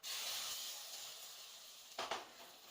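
Hot cumin tempering tipped into a pot of boiling lentil dal, giving a steady close hiss and sizzle, with a brief burst of louder spluttering near the end.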